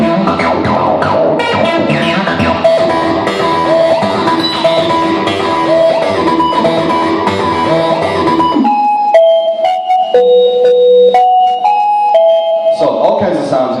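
A Roland AIRA TB-3 synthesizer plays dense bass and lead patterns at the front, then shifts to sparse, bright stepped lead tones over near silence, loud and close.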